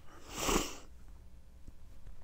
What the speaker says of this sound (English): Try not to sniffle too much.